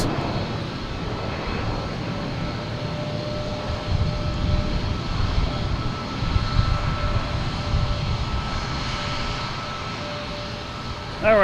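A jet airliner departs Boston Logan for Columbus with a continuous rumbling engine roar that swells in the middle and includes a thin steady whine, with no voices.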